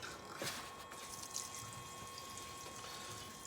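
Liquid trickles and gurgles softly as it drains back through a battery-operated Harbor Freight liquid transfer pump after shutoff, a faint, steady watery flow with a couple of brief splashy bursts near the start.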